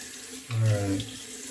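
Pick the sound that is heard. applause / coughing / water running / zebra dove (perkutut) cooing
water running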